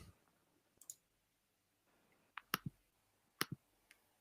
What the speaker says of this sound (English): You're clicking. I can hear clicking.